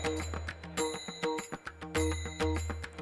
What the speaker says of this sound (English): join hands for ringing the bell of world peace